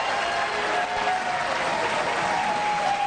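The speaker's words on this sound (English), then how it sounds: "please hold your applause" Steady applause from the audience at a 2018 Connecticut gubernatorial debate, a continuous even wash of clapping with no voices over it.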